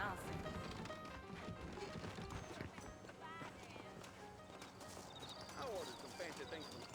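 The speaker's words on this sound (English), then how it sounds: "I got the horses saddled up and ready out front." Saddled horses clip-clopping at a walk in the Western video game Red Dead Redemption, steady hoof beats with an occasional whinny, set among game music and speech.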